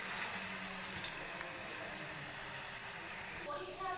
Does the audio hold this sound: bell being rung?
no